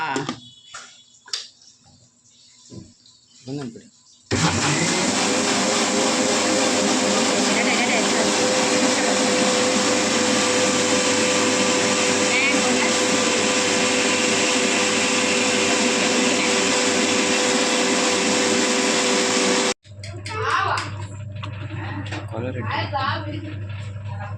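An electric mixer grinder blends mango and sliced jackfruit into lassi, a loud steady high whine running nonstop for about fifteen seconds, with talk and kitchen clatter before it starts and after it stops.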